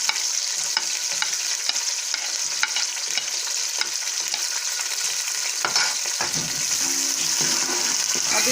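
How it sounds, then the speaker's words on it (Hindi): Onions sizzling and frying in a hot pan for an anda aloo curry, a steady loud hiss with occasional stirring scrapes, close and continuous, with no talking. "अब इन प्याज को ब्राउन करेंगे।"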